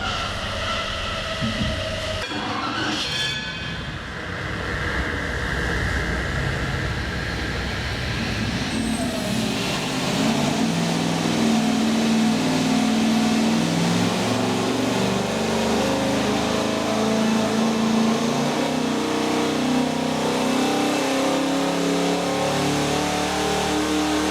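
A budget-build car engine fitted with a Holley aftermarket ECU runs on a dyno, rising from a rough idle into a loud, sustained drone that climbs in pitch as it revs up and holds under load.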